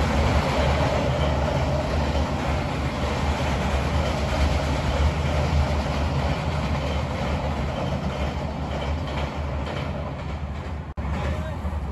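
A train runs along a railway beside water where fish are being trapped, a steady loud rolling rumble with rail clatter that fills the whole stretch and briefly dips near the end.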